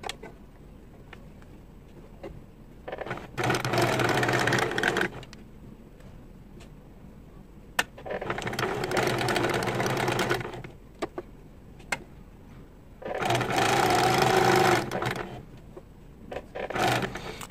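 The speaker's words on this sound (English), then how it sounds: "So we stitch straight on the blue mark." Sewing machine stitching fabric for a homemade bow tie along a marked line, running in three separate bursts of a few seconds each with quiet pauses and small clicks between them.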